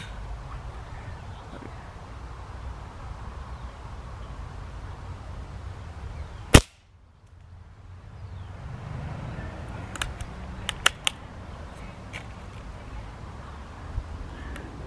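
A single sharp crack from an Air Arms S400 air rifle fitted with a Hawke scope on a Fast mount, fired indoors at 10 yards. Loud and close against a low room hum, followed by a few faint ticks.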